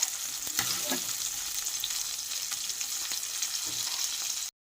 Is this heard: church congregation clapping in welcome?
no